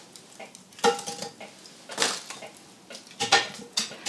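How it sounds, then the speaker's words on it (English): A lid set on a camp oven over a fire, then hot coals shovelled onto it: several sharp metallic clanks and scraping knocks at irregular intervals, close by, with no talk. "So then you place your lid on top, And then you just actually take the hot coals from the top of the fire"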